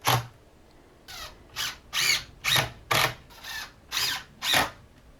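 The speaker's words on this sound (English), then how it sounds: "just put two screws through each picket into the diagonal brace" Cordless power drill driving screws through timber pickets into a diagonal gate brace, eight short bursts of whirring in an even rhythm, close and clear with quiet gaps between.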